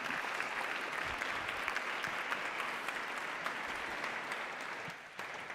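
An audience at an agricultural summit claps steadily, a dense, sustained burst of applause that holds at full strength and only thins slightly near the end, with no talking over it.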